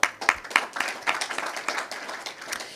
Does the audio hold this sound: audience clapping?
yes